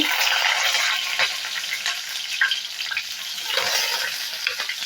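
Onion and green chilies fry in hot oil in a pan, a loud, steady sizzle and crackle that fills the scene with faint stirring scrapes mixed in.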